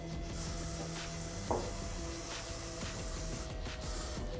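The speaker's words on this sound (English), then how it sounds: "I'm going to go in with a little Dry Extreme spray just to support my style." A brief spray of dry hairspray hisses once near the middle, short and close, over a steady background hum.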